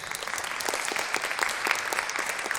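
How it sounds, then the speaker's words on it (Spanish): An audience applauding during a live science show, steady dense clapping that holds at an even level throughout. "vamos a dar un fuerte aplauso a..."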